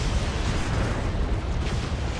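Cannon fire in a 3v3 match of the strategy game Dawn of War 2, a steady stream of rumbling booms and blasts packed densely together, loud and continuous with no pauses.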